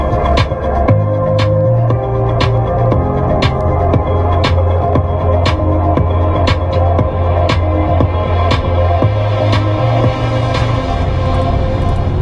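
Electronic chill music playing on the Burmester sound system of a 2021 Mercedes-Benz E350 4Matic sedan, steady deep bass pulses under a regular percussive beat, loud and continuous inside the cabin with no talking.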